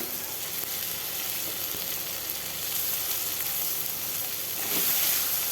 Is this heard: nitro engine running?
no